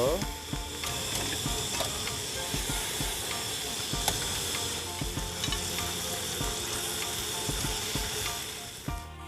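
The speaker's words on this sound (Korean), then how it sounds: "계란이나 좀 굽겠습니다" Eggs frying in butter on a camping stove at a campsite breakfast, a close, steady sizzle and hiss with occasional crackles and clicks running throughout, with faint voices now and then.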